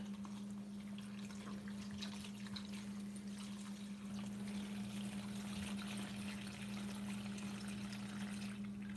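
Water pours steadily into a seed tray for planting cucumbers and melon, a soft continuous trickle and splash lasting the whole stretch over a constant low electrical hum, with no talk.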